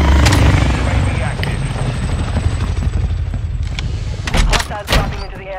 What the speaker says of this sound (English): Oh, we got drones here too.